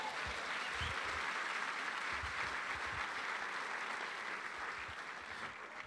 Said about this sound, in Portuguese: Quem tem aliança com Deus, dá um aplauso a Jesus.